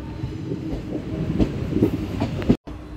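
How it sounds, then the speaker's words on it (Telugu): The Millennium Express crosses on an adjacent track, a close, loud rolling rumble with rhythmic wheel thumps on the rails, ending abruptly in a short gap near the end. "మన ట్రైన్ బయలుదేరిన తర్వాత మనకి ఫస్ట్ క్రాసింగ్. అదేం ట్రైన్ అనుకుంటున్నారు? Millennium express"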